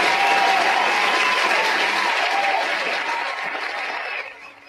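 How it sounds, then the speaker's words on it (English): Applause from a live wrestling show audience, loud clapping at the start that gradually fades, then drops away sharply near the end. "Let's give Gary a round of applause, please"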